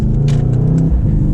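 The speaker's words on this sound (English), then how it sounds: "So it downshifts pretty quick" A Mercedes C63 AMG convertible in sport and manual mode downshifts and revs, a loud close engine roar with quick blips and a short shift break.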